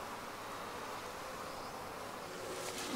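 Honeybees buzz steadily around an open hive box during a queenless split inspection, a dense, continuous drone close to the listener with no pauses and a slight swell at the end.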